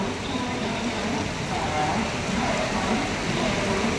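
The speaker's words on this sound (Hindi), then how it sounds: "वीडियो बना रही है बारिश का" Steady rain falling at a train station during the monsoon, a dense even hiss of drops on surfaces with faint voices in the background.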